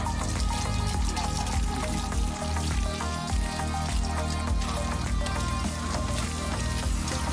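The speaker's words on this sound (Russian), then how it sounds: "При помощи только струи воды от насоса ради эксперимента попробовали отмыть тарелку" A jet of water from a pump sprays onto a dirty plate outdoors at a campsite, a loud, steady rushing and splashing that continues without pause, with a low mechanical hum running underneath.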